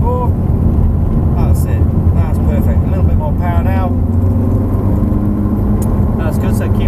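A Ferrari F430 engine drones steadily as the car accelerates on a proving ground, with the motor running continuously beneath an instructor's voice giving driving directions.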